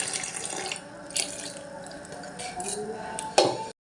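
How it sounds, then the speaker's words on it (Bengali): Rinse water from a mixer jar is poured into batter for a spring-coloured pitha, producing a steady close trickle with a few brief splashes and a sharper splash near the end. "এই ধোয়া জলটাই আমি এর মধ্যে দিয়ে দেব।"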